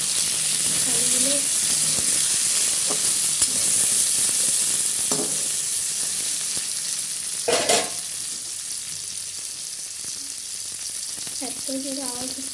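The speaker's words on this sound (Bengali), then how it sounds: "আলু আর পেঁয়াজ একসাথেই দিয়ে ভাজা ভাজা করে নেবো," Potatoes and onions fry together in a pan, giving a loud, continuous sizzle throughout with occasional stirring scrapes and a voice speaking briefly underneath.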